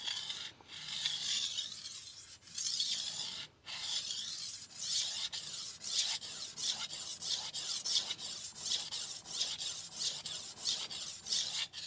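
Rhythmic rasping strokes of a hard stainless vintage Victorinox 8-inch knife drawn across a 1000 grit sharpening stone, repeated many times, quickening toward the end, close and fairly quiet.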